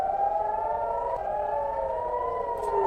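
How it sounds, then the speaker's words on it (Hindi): An air raid siren sounds in an Israeli city during an Iranian attack, a loud, sustained wailing tone that slowly bends in pitch, with no voices over it. "इजराइल के अलग अलग शहरों में लगातार सायरन बज रहे हैं।"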